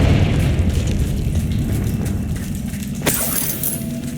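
A Confringo spell in Hogwarts Legacy bursts into a loud, rumbling explosion with a sustained booming roar and a sharp crack near the end, no voices over it.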